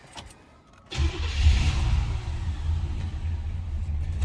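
A 1966 Chevrolet Caprice two-door hardtop engine cranks briefly after a quiet moment, then catches and settles into a steady, deep idle rumble, loud and close with no talking.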